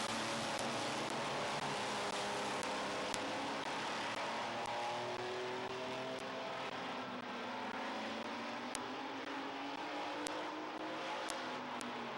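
Race cars at Midvale Speedway roar in a steady, dense wall of engine noise, with rising and falling engine tones as the pack circles the track, loud and continuous throughout.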